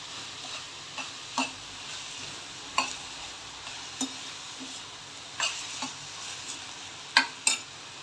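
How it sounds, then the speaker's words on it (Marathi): Tomatoes sauté in a pan for spicy egg bhurji, giving a soft, low sizzle broken by about a dozen sharp clicks and scrapes as a spatula stirs against the pan. "टॅमॅटो घातलं आहे आणि आता चांगलं परतून घ्यायचं"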